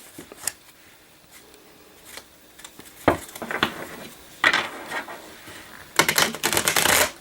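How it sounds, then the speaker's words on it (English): A deck of Tarot Illuminati cards being shuffled by hand, with scattered soft riffles early on and denser bursts of card flicks and snaps near the end, close and fairly quiet. "I'm just going to start by shuffling the deck until I feel an energy shift."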